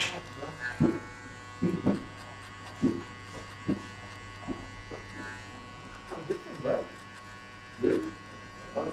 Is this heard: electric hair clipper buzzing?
yes